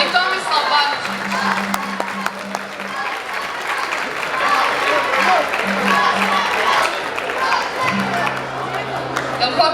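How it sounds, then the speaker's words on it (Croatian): Audience applause at a local award ceremony and concert, a dense, steady wash of clapping from a crowd that runs the whole time, with a few voices and some music faintly underneath. "može još pljeska, da"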